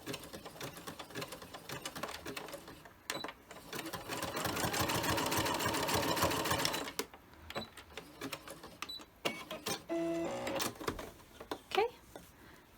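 A sewing machine stitching backwards across face mask fabric made from fat quarters, a fast steady mechanical whirr running loud for a few seconds between shorter bursts, with a person talking around it.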